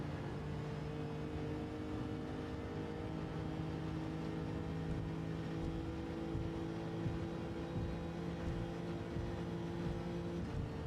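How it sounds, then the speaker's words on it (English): Lexus RC F GT3 '17 race car in Gran Turismo 7 pulling away from a standing start at full throttle: a steady, loud engine drone with sustained harmonic tones throughout, no voices. "For the standing start, you can still start by pressing the accelerator all through."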